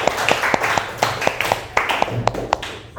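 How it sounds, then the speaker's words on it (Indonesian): Applause from a classroom audience for a student presentation group, a brief burst of scattered, uneven claps rising and fading over a few seconds at moderate distance. "Ya, tepuk tangan untuk kelompok 2."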